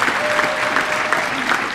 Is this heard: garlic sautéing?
no